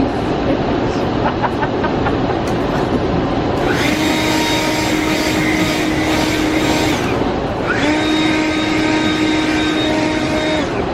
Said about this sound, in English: New use for the lawn blower.